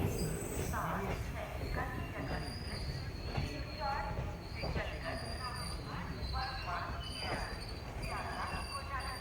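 Rumble and rattling clatter of the Kanchenjunga Express rolling into New Farakka Junction station, wheels squealing faintly, with people talking underneath throughout.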